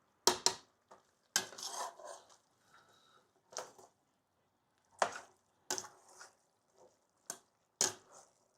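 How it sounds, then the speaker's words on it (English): Broccoli being stirred in a metal pot, with a series of sharp scraping clinks and knocks of a utensil against the pot, spaced irregularly with quiet gaps between them, close up and alone. "Our broccoli is in. We want to stir it a little."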